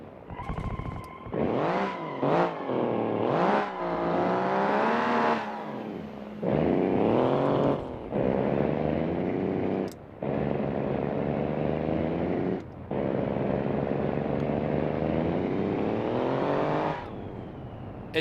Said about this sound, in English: It sounds like a diesel truck, though.